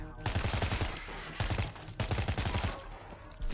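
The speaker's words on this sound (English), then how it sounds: "I do have the snakeskin SMG equipped. It just makes your fire rate faster." Rapid gunfire from a snakeskin SMG in a video game, heard as dense, rhythmic bursts of shots with brief pauses between volleys, loud and close.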